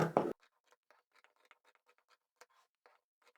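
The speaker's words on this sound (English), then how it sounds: "And then we'll just cut these strips." Scissors snipping through old towels to cut strips, a run of small crisp cuts in an irregular rhythm, close and quiet, after a brief loud burst at the start.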